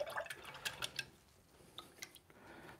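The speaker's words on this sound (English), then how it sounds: "I've got to wash that brush because it's starting to get a little bit on the contaminated side." Paintbrush rinsed in water during painting, with faint close drips, small splashes and clinks in quick irregular bursts that thin out toward the end.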